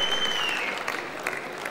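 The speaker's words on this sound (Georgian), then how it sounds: "აპლოდისმენტები ამ არაჩვეულებრივ ადამიანებს გილოცავთ" A semifinal audience applauds the performers with dense, sustained clapping from a crowd. A thin high tone fades out in the first half.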